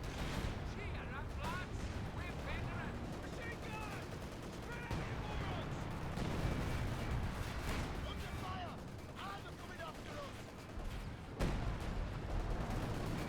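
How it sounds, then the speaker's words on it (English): An artillery barrage called in by a command tank pounds the battlefield in the strategy game Company of Heroes 2, a steady rumble of distant blasts running beneath continuous talking. "You got the artillery being called on in by the command tank"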